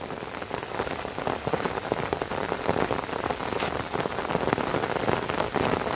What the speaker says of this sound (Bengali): প্রচণ্ড বৃষ্টি শুরু হলো বন্ধুরা।